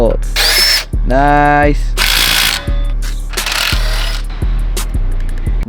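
A power drill runs in loud bursts, spinning up and winding down several times to back out the bolts holding a Megamoto 212 minibike motor, with a ratcheting mechanical whir between runs and a brief spoken word.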